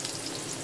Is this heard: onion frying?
yes